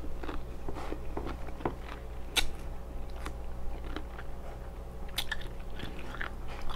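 Someone bites and crunches on a raw cucumber up close, with several short crisp crunches and chewing over a steady low background hum.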